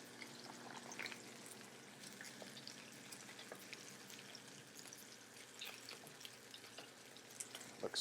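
Fish fries in a thin layer of oil in a pan, giving a faint, steady sizzle broken by light crackles and small pops throughout, for a cioppino.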